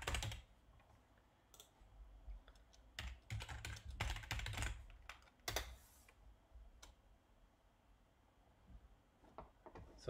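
Keys on a computer keyboard are tapped in quiet, irregular clusters of clicks as a username and password are typed, faint and close with short gaps between bursts.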